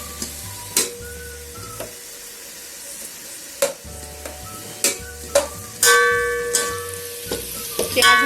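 Sliced onions sizzle steadily in hot oil while a spoon scrapes and stirs them around the pan for chicken yakhni pulao, with sharp clinks from the stirring over the constant frying hiss.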